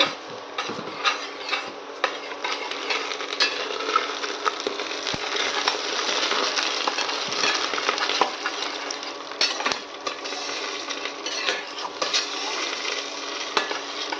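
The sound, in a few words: mung dal being stirred and fried in a pan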